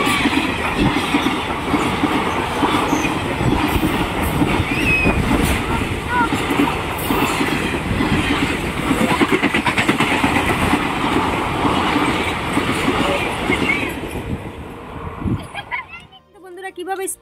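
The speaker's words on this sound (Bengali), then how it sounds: "এদিকে দেখুন ট্রেন আসছে, ট্রেনের শব্দ পাওয়া যাচ্ছে, এই যে শুনতে পাচ্ছেন ট্রেন আসছে।" A train rushes past at speed, a loud continuous roar of wheels and rattling cars dominating the scene before fading out near the end.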